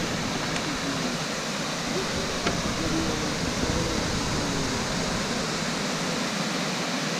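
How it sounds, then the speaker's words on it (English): Continuous broadband rushing of Choke Creek Falls, a waterfall on a creek along the Pinchot Trail, steady and loud throughout with no break. "We are at Choke Creek Falls."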